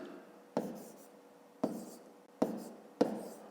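Four distinct scratchy strokes of a pen or pencil writing numbers by hand on paper, each starting with a sharp tap and trailing off, close and quiet with short pauses between.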